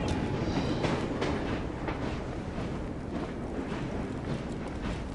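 Steady rumble and clatter of a moving Victorian-era train in Assassin's Creed Syndicate, a continuous loud rolling noise of wheels on track with rhythmic clicking throughout.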